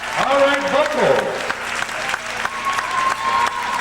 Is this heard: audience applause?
yes